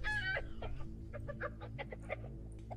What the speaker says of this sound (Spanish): Una gallinita con gen B.